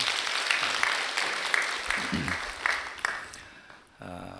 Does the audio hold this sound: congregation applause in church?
yes